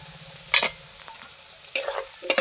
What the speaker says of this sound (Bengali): আলু আর পেঁয়াজ ভালো করে আমি ভেজে নেব